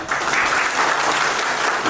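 Steady applause from an audience at a public forum with Thai senators meeting citizens in Trang, greeting an official as he is introduced; dense, sustained clapping of a sizable crowd throughout, fairly loud and close.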